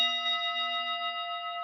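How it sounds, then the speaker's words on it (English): A struck gong rings during a guided breathing exercise, its steady, sustained metallic tone slowly decaying over a couple of seconds, clear and alone with no talking. "I'm gonna hit the gong"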